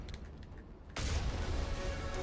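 A cannon fires in the Mass Effect video game, a sudden loud boom that breaks into a sustained roar of gunfire and noise after a quieter opening.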